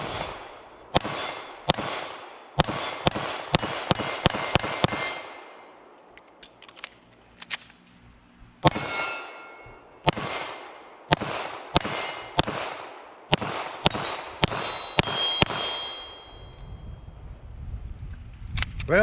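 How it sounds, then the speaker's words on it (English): A Canik TTI Combat 9mm pistol fires two magazines outdoors, sharp close shots in quick uneven strings, with a brief pause between magazines. "he's gonna put his first 2 mags through it, see what he thinks about his TTI Combat"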